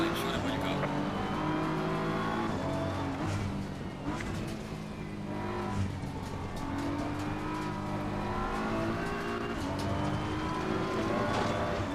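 Race cars in Assetto Corsa Competizione pull away together from a rolling start, engines droning loud and steady with rising, overlapping revs throughout, while a voice talks over the top.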